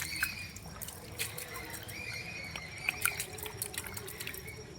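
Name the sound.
washing lentils and pumpkin in a bucket of water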